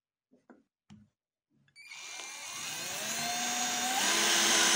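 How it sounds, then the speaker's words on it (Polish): A HILDA 12V cordless drill-driver drives a screw into material after a few soft clicks of handling, its motor whining up and steadily rising in pitch and loudness as the screw goes in, close by with no voices. "No i zobaczymy, jak sobie ta wkrętarka poradzi z takim zadaniem."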